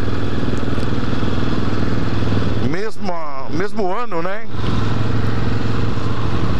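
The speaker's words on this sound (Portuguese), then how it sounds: "Se trata de uma Suzuki Intruder 1994, a mesma moto" A 1994 Suzuki Intruder motorcycle engine idles steadily nearby, loud and continuous, with someone speaking briefly over it.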